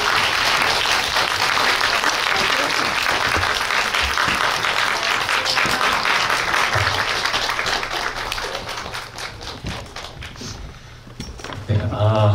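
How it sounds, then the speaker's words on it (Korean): An audience at a film festival event claps loudly to welcome an actress, dense sustained applause that thins and fades near the end as a voice begins to speak. "자, 그럼 오늘 주인공인 김슬기 배우를 큰 박수로 모셔보도록 하겠습니다"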